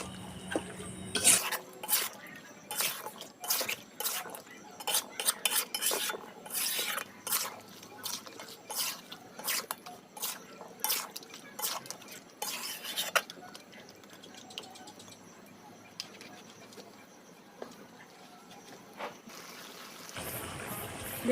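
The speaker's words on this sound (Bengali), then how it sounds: "আমি এখন লবণটা মাছের সাথে মিশিয়ে নেব" Pieces of goat mutton are stirred with salt in a cooking pot using a metal spoon, giving repeated sharp scrapes and clinks in an irregular rhythm, close up, before a soft steady hiss takes over at the end.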